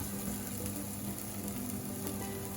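A pot of lentil soup sizzles continuously on the stove, a steady close hiss and crackle with a faint underlying hum and occasional soft stirring scrapes, with nobody speaking.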